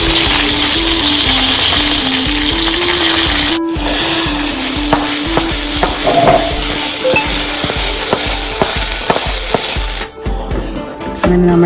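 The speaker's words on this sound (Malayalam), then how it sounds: "ഇനി നമ്മൾ ഇതിലേക്ക് താളിച്ച് വയ്ക്കാൻ പോവുകയാണ്." Tempering spices hiss and sizzle steadily in hot oil for a green mango pachadi, loud and close, with stirring scrapes and a brief break midway before the frying noise resumes.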